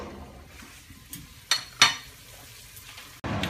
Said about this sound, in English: So we're going to transfer now the beef and brown it up.